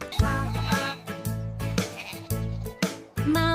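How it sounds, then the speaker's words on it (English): A sheep bleats about six times in a steady rhythm, each call a loud, close, wavering cry separated by brief pauses. "Baba says the sheep, soft and sweet."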